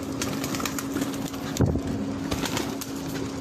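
A shy pigeon coos softly and steadily amid a broad, noisy background, with a slight louder moment partway through.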